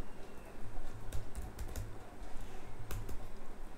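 Code is typed on a computer keyboard in quick, soft, irregular clicks with a few louder keystrokes, quiet and close.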